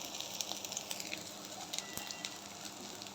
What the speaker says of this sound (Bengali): আদাটা একটু ভালো করে ভাজা ভাজা করে নিব, এরপরে ডালটা দিয়ে দিব।